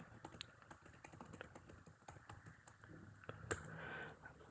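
Typing on a computer keyboard while entering a Google search on a MacBook Pro M1, a steady run of quick, close, light key clicks with an uneven rhythm and a slightly louder tap near the end.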